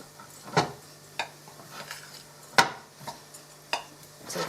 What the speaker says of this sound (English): mix them all together